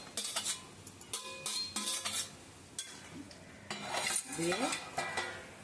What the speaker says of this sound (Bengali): এই যে নাড়াচাড়া করছি।